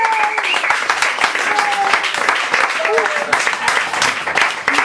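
Audience applause for a band at a modern poets evening: a dense, continuous patter of clapping with some voices mixed in, steady and moderately loud throughout.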